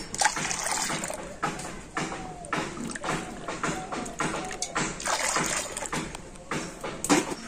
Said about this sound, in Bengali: ওই একই বাটির মাপ করে আমি দিয়ে দেবো 2 বাটি জল